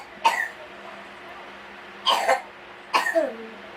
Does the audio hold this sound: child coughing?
yes